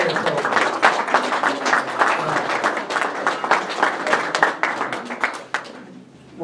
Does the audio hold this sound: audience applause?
yes